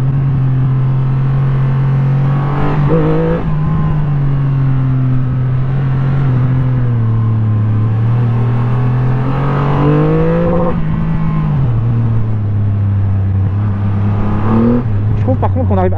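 New Triumph motorcycle engine pulling at low revs, a loud, deep engine drone that rises and falls in pitch as it accelerates through gears, with someone talking over it throughout.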